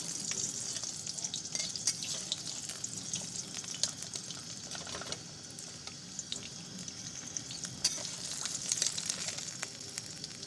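Fish frying in oil for Bengali amshol, a steady crackling sizzle with scattered sharp pops and faint stirring, close but moderately quiet and continuous throughout.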